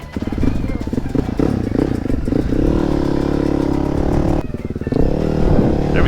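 A GPX Moto dirt bike, a Chinese clone of a KTM/Husqvarna style machine, runs loudly with a steady engine drone and clattering, dipping briefly before picking back up near the end.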